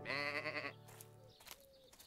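Escaped sheep bleat on a cartoon farm: one long, clear, wavering bleat followed by a couple of shorter, fainter calls, close and alone with no talk.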